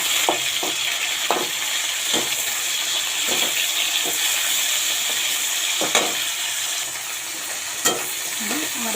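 Dried hilsa fish frying with fried onions in a pan, a steady loud sizzle broken by repeated scraping stirs of a spatula, close up and without talk.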